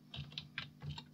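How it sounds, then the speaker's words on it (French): Computer keyboard keys tapped while working in SketchUp: a quick run of light, crisp clicks, close and quiet, with no voices. "J'appuie sur le raccourci clavier G"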